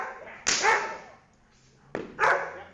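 An 11-month-old German Shepherd in a bite sparring drill lets out two loud, close barks about one and a half seconds apart, each a sharp burst with a short trailing growl.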